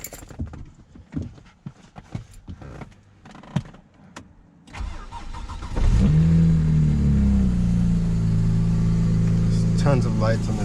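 A keyless BMW 335i tuned to about 450 whp, bought totaled with wastegate rattle, fires up with a sharp start flare and settles into a loud, throbbing idle, after clicks and shuffling nearby.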